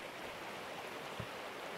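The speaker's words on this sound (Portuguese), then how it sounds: "Aí a água caiu." Water pours steadily in the video game Gold Rush, a soft, even rushing stream with a faint knock partway through.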